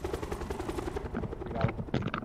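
Helicopter in the video game Call of Duty: Black Ops 4: a rhythmic rotor thump running under overlapping voices, with a few sharp impacts near the end.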